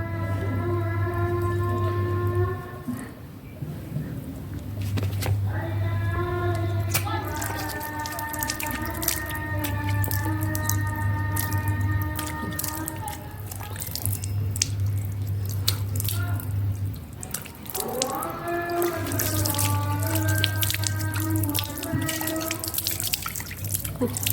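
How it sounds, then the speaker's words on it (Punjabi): Water splashes and drips as a papaya face pack is rinsed off by hand over a sink, with soft, irregular close splashes under steady background music. "ਇਸ ਤਰ੍ਹਾਂ ਆਪਾਂ ਹਲਕੇ ਜੇ ਛਿੱਟੇ ਮਾਰ ਕੇ ਬਸ ਹਲਕੇ ਹੱਥਾਂ ਨਾਲ ਇਹਨੂੰ ਇਦਾਂ ਮਸਲ ਕੇ ਉਤਾਰ ਦੇਣਾ"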